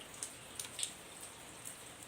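Rain falls steadily as a soft, even hiss, with faint scattered drops ticking on a surface, quiet and with no voices.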